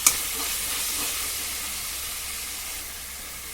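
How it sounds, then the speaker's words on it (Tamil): Sliced onions sautéing with salt in a hot pan, a continuous broad hiss that starts with a sharp burst and then holds steady, slowly fading a little, close by with no speech. "வெங்காயத்தடியே கொஞ்சம் உப்பு போட்டு வதக்கிடும்"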